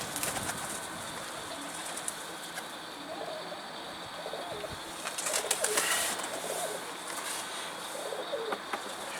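Pigeon flying around near a rooftop coop: soft cooing and a few brief bursts of wing flapping over steady outdoor background noise.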